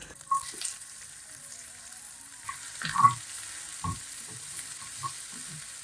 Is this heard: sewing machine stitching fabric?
no